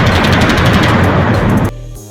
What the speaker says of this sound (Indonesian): suara tembakan meriamnya hampir mirip dengan mesin jahit